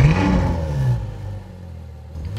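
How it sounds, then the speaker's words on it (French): A Ferrari F12berlinetta V12 rumbles loudly and rises briefly in pitch, then settles into a lower droning hum, heard from close by with no speech over it. "Bon allez, on va le faire chanter ce V12 un peu."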